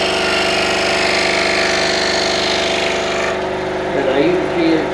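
A scroll saw cuts through a large sign pattern with a steady, loud mechanical buzz. Its tone shifts and drops partway through, and a voice comes in briefly near the end.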